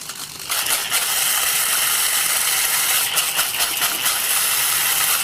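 A bamix hand blender grinds a spice mix in a lidded jar, a loud, steady high-pitched whirring rattle that starts abruptly after a brief moment and runs continuously close by, with slight fluctuations.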